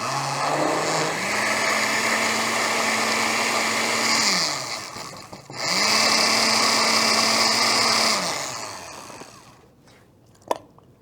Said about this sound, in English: Let's turn it on and blend it.